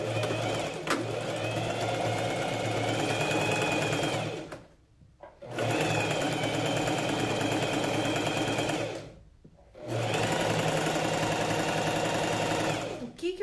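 A sewing machine stitches the lining of a jacket to its lapel in three long steady runs of motor hum, separated by two brief pauses, close and fairly loud.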